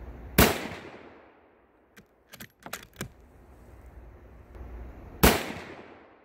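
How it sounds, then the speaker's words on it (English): Two sharp, loud rifle shots from Privi Partizan PPU 150 grain soft point ammunition, the first near the start and the second about five seconds later, each followed by a short decaying tail, with faint clicks in between. "So we're going to go back and shoot our Privy Partisan and see how it works out."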